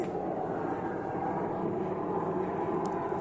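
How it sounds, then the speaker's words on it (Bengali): A helicopter flies over Srinagar, heard as a steady, fairly distant engine and rotor drone that holds evenly throughout, with no one talking over it. "ওদিকে হেলিকপ্টার যাচ্ছে"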